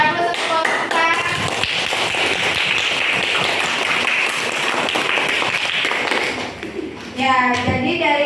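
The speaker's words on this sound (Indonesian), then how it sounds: "Beri aplaus untuk kelompok kita." A classroom group gets a round of applause, dense steady clapping from many hands for about seven seconds before it fades, with voices rising at the end.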